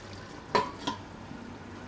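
Spoon stirring cooked chickpeas with tamarind in a pot, two quick scraping clinks close by over a faint quiet background.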